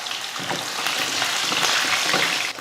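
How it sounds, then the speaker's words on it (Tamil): Small onions, curry leaves and a couple of garlic cloves sauté in hot oil, a dense close sizzle with soft stirring scrapes throughout and no talking. "வெங்காயம் நல்லா இந்த மாதிரி வதங்கி கொஞ்சம் பிரிஞ்சு வர மாதிரி வதங்குது பார்த்திங்களா"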